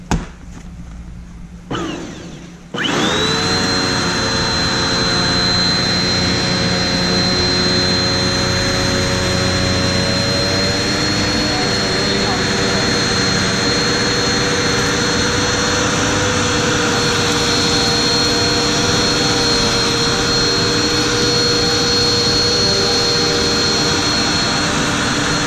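A Eureka PowerSpeed Pro Turbo upright vacuum cleaning a heavily soiled carpet with pet hair, switching on after a brief pause into a loud, steady whining roar with a high tone held close throughout.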